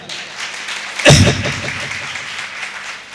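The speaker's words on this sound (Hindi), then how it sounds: "मानिकचंद गुरु जी के लिए एक जोरदार ताली सर" An audience at a gathering applauds a guru, a sudden thump followed by a short round of clapping that settles into a soft, continuous patter of hands.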